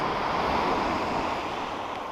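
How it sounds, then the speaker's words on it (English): Ocean waves and swell roll in on the Bay of Fundy shore on a calm morning, a steady, fairly loud wash of surf with no voices. "Fair amount of swell, waves coming in this morning, but nothing like it would be after a storm."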